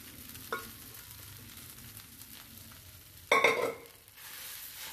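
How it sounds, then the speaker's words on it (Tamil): Dal, semolina and grated coconut fry gently in ghee over a low flame, giving a faint, steady sizzle broken by a few scraping stirs of a spoon, one louder than the rest. "அடுப்பை நல்லா சிம்மில் வச்சுக்கிட்டு இந்த பருப்பெல்லாம் சேர்த்துடணும்."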